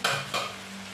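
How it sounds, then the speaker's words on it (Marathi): A spoon stirring vegetables in a pan for Schezwan fried rice made from leftover rice, two quick scraping strokes over a faint sizzle, close and quiet. "तो त्याच्यात टाकायचा आता आणि एकत्र सगळं हलवून घ्यायचं व्यवस्थित चमच्याने"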